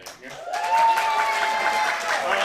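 An audience at a live improv show at The Crocodile breaks into applause after a brief quiet start, swelling to a steady, full wash of clapping with a few scattered voices mixed in.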